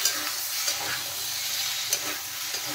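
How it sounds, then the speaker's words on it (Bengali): Lengthwise-cut tomatoes sautéing in a pan while being stirred, a dense continuous sizzle with soft periodic scrapes of the spoon, close up and without speech. "এখন ভালোভাবে কষিয়ে নেব।"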